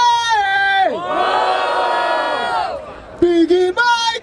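A street rap battle crowd in Barueri, SP roars and shouts for the rapper LC, a loud sustained mass of voices rising in a big cheer, then breaking into short bursts of chanting near the end.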